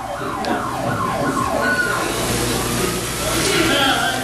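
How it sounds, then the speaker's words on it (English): An ambulance siren wails in repeated rising and falling sweeps as the vehicle arrives at a street scene, mixed with crowd noise and talk throughout. "The ambulance arrives quite fast."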